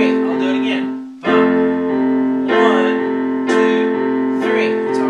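Piano playing one measure from Cinderella, a few sustained chords struck at a steady counted pace, each ringing into the next, close and fairly loud with no talk over it.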